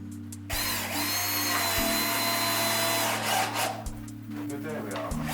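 A power drill driving screws into a boat's wooden bulwark whines loudly and close in steady bursts, broken by short pauses between screws.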